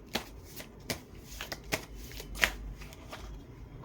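Tarot cards shuffled by hand in a quiet room, a run of soft riffling flicks and snaps spaced irregularly over several seconds, close and fairly faint, with no talking.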